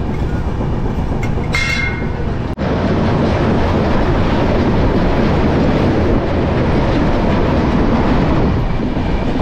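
The East Coast Express, train 18046 from Hyderabad to Shalimar, passes close and loud with a continuous rumbling roar and wheel clatter, after a brief horn-like burst near the start.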